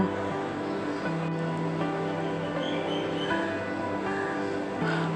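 Milk boils in a partly lidded pot on high heat with a steady, dense rushing and bubbling roar at close range that holds level throughout.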